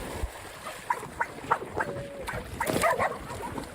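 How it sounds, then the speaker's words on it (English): Several dogs bark in short, scattered yips and woofs, some higher and whiny, at moderate distance with a soft background hiss. "They're just barking."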